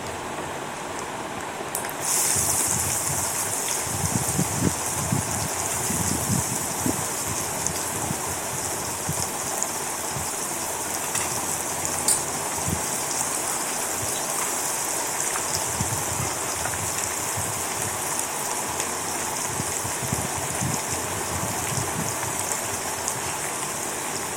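Carrot pieces for a spicy carrot fry hiss and crackle steadily in a hot pan, a dense, even sizzle that holds for the whole stretch with faint clinks underneath and no talking.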